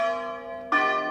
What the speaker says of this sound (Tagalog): Ayan, narinig niyo yung bell ng church.